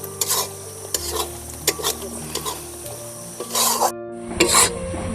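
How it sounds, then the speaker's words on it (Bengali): Ghetkol leaf paste with black pepper being stirred and fried in a pan, with intermittent scraping strokes over a soft, steady sizzle, close and moderately loud. "গোলমরিচটাকেও দেওয়ার পর একইভাবে নাড়িয়ে নিতে হবে"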